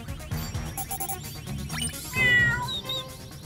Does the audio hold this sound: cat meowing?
yes